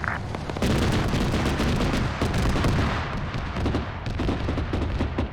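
Heavy video-game gunfire crackles in repeated close and distant shots, forming a dense, booming barrage that continues for several seconds with no talking.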